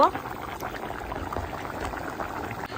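A pot of hilsa fish curry with bottle gourd boils in a steady, close bubbling, with a brief pouring splash at the start.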